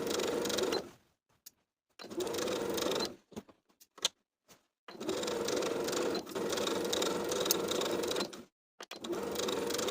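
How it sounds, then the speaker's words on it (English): Sewing machine edge stitching along a fabric casing, several long, even runs of loud, close mechanical whirring separated by short silences and small clicks as the fabric is turned. "we're going to edge stitch along both sides of the casing all the way around"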